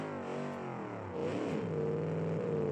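A European Ford Focus engine in BeamNG drones and revs steadily, its tone rising into a stronger pull partway through, loud and close with no talk over it.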